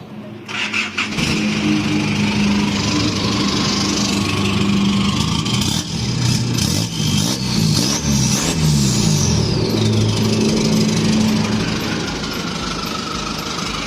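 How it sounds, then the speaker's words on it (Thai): A loud race-tuned Isuzu D-Max 2.5 circuit racing pickup engine cranks and fires up, then revs repeatedly in rising and falling bursts before settling back to a rough, heavy idle close to the listener. "เราจะมาติดเสียงเครื่องยนต์ให้ฟังกันนะครับ"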